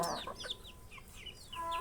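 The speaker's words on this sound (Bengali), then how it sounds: "এই মুরগিগুলো এত খায় বাপরে বাপ সারাদিন ঘর ঘর ঘর ঘর করিয়া বেড়ায়" Several chickens cluck in short, chirpy bursts around a rural Bangladeshi homestead. The calls are moderately faint and scattered across a steady background with no talk.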